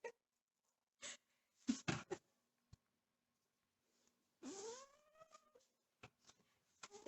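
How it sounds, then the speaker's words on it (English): A cat gives one quiet, drawn-out meow from behind the camera amid scattered soft clicks and rustling in an otherwise quiet room. "Sorry if my cat is meowing again."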